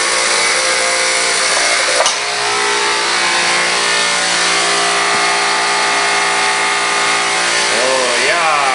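A sewer cleaning jetter runs at full pressure with a buck-boost transformer, giving a loud, steady mechanical roar with a brief knock partway through and a voice speaking over it.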